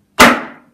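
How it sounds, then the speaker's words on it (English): A fretting hammer gives a single sharp, close tap, seating a fret into a flamenco guitar fretboard, with a short ringing decay. "get your fretting hammer,"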